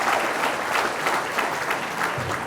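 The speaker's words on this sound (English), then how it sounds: "Give them one more round of applause" A banquet crowd at a West Laurens football awards evening applauds the seniors, a dense, steady wash of clapping that holds loud and close throughout the short stretch.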